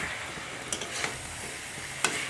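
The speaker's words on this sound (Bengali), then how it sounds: "এখন চালতার আচারের যে স্পেশাল মশলা গুঁড়ো করেছিলাম সেটা দিয়ে দিচ্ছি। ভালো করে আচারের সাথে মিশিয়ে দেব" Special ground spice being stirred into chalta (elephant apple) pickle in a pan, with soft scraping and low sizzling under a few sharp clicks of the spoon against the pan.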